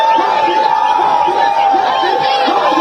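Crowd along a roadside chanting slogans for Modi at a rally during the Kolkata metro inauguration, a dense, loud mass of voices in rhythmic chant, steady and close throughout.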